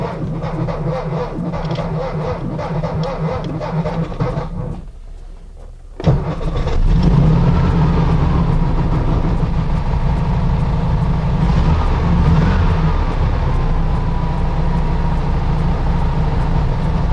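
A vintage Volkswagen Beetle engine being barn-started cranks briefly, then catches and settles into a loud, steady idle with a throbbing air-cooled rumble, close up and without voices.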